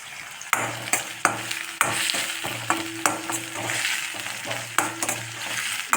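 Curry leaves sautéing in a pan with salt, a continuous close sizzle punctuated by repeated sharp spatula scrapes and taps as the leaves are stirred, with no talking.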